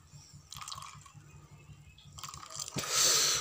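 Hot water poured over 781-3 fish feed pellets for catfish bait, a soft wet splashing and dripping that builds into a louder rushing pour near the end, close by with no talk.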